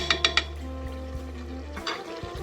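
Onion is stirred into mutton cooking in a pot, opening with three quick metallic clinks of a spoon against the pot, then a low steady hum with soft scrapes.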